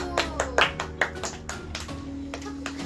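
Pupils in a fifth-grade elementary classroom clap for a classmate: a short run of distinct, rhythmic hand claps close by, over a steady low hum, thinning out toward the end.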